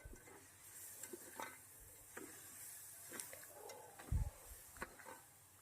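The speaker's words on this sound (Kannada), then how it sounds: "ಶುಂಠಿ ಬೆಳ್ಳುಳ್ಳಿ ಪೇಸ್ಟ್ ಹಾಕ್ತಾಯಿದ್ದೀನಿ ನಾನು. ನೀಟಾಗಿ ಫ್ರೈ ಮಾಡ್ಕೋಬೇಕು ಅದನ್ನು." Ginger garlic paste frying in a pan for tomato bath: a faint, steady sizzle with scattered soft scrapes and taps of a stirring spoon, one slightly heavier knock near the end, and no talking.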